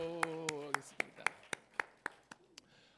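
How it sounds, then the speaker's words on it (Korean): A church congregation at a Sunday morning service claps in a quick, even series of sharp claps, fairly faint, with a brief voice at the start. "박수."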